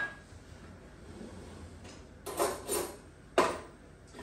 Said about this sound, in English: So into that zest, just going to dump all my pomegranate seeds.